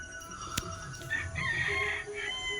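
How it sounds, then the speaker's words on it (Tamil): A rooster crows at a distance, its long call rising and trailing off over steady outdoor background noise, with one sharp knock early on. "இந்த சேவல் சேவல் சேவல் ரெண்டு இருக்கா?"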